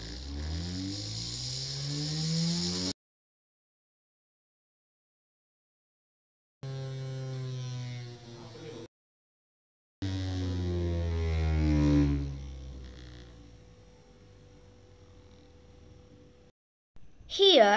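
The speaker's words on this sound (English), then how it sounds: "Here I've connected the fan to the big motor." A small fan driven by a big motor in a simple flywheel energy-storage experiment gives a tonal electric whine that rises and falls in pitch, broken by stretches of silence.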